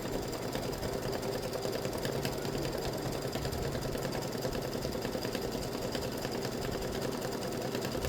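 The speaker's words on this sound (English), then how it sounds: "I go ahead and stitch it even though I don't need to stitch it" A sewing machine runs steadily and close, stitching a fabric tic-tac-toe game board; a fast, even mechanical chatter continues without pause for the whole stretch, with no talking over it.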